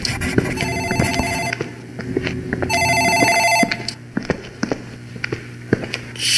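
An office telephone rings in the video game Dark Fracture: two bursts of bright electronic trilling ring out loud and close, with footsteps tapping between and after them.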